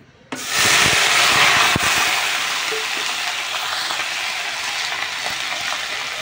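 Onion, ginger and garlic paste hitting hot oil with cumin in a pan: a sudden loud sizzle that bursts in, then a steady hissing fry that eases slightly, with faint stirring scrapes.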